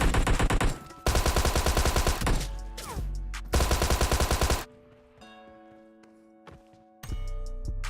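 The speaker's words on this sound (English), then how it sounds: "Hip fire in close range." Rapid close-range hip-fire bursts in PUBG Mobile, loud dense automatic gunshots in several strings broken by short pauses, with quieter footsteps and clicks between bursts.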